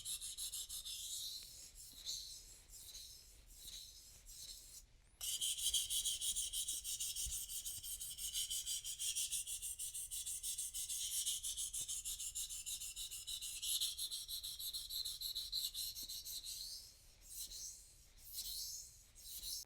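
A knife blade is sharpened along its length on a stone in steady, quiet rasping strokes, with a brief pause before continuous rubbing resumes.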